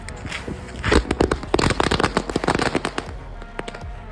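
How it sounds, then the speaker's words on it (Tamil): A short 100-count Diwali firecracker string going off in quick, uneven pops and crackles, close and loud, tapering off into sparse bangs. "ஹண்ட்ரட் எப்படி வெடிக்குதுன்னு சொல்லி பார்க்கலாம்."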